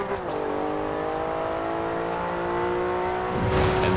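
A car engine in the Forza racing game revs at a sustained high pitch, holding steady and then dropping away near the end with a brief rise in noise.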